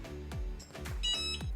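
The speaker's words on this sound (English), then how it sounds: "We just got our beep, so we are ready to go." A Cricut Mug Press gives a short run of electronic ready beeps, high and clear, sounding over a low rhythmic thumping.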